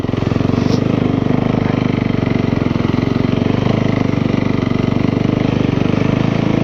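A motorcycle creeps slowly through a rough off-road section, its engine holding a steady low, chugging thrum at near-idle. The sound is close and constant, with an even, rapid firing pulse throughout.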